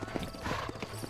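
Horse hooves clip-clop in quick, even rhythm as a horse trots in the Red Dead Redemption video game, close and moderately loud, with a short snort or whinny mixed in.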